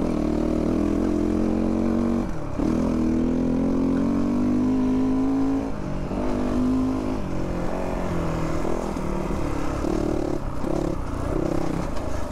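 A 2022 GPX Moto FSE450R dirt bike engine running while ridden on a cool day, a loud, continuous close-up drone whose pitch swells and dips with throttle changes, with no talk over it.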